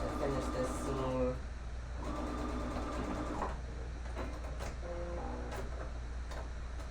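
Sewing machine stitching a seam through about three layers of fabric on a 3D face mask, a rhythmic mechanical whir in short bursts with pauses, steady hum underneath.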